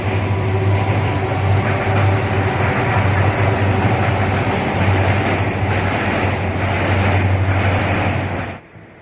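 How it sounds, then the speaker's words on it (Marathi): A train rumbles past steadily on the tracks near the Yerala River, a loud continuous roar with a low engine hum that cuts off abruptly at the end. "समोर जो रेल्वे ट्रॅक आहे त्याच्यावरून ही रेल्वे जात आहे"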